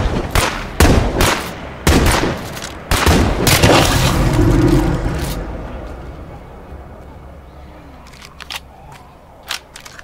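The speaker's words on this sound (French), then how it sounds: "Elle tire pour rien, ces deux connes là." Gunshots ring out in State of Decay 2, a string of loud, close sharp cracks and booms in the first few seconds that fades to sparse distant shots, with voices talking over it.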